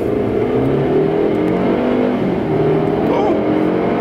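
Infiniti Q60S coupe accelerating hard from a launch start, a loud, steady engine roar heard from inside the cabin that holds for the whole stretch and rises slightly in pitch near the end.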